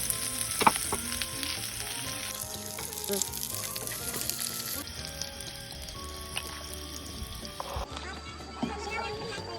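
Food cooking slowly in a pan at an outdoor campsite in misty weather near Merapi, a constant soft sizzle and frying hiss with occasional stirring clinks, steady and close, with faint background activity.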